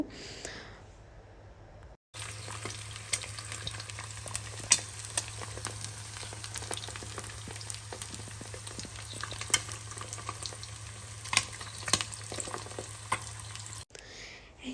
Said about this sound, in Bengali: ফ্রাই প্যানে তেল দিয়ে তিনটার মতো ডিম ভেজে নেব